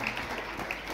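Audience applause for a teacher at St. Mary's School in Taraon, a steady wash of many hands clapping at moderate volume throughout, with no one speaking over it.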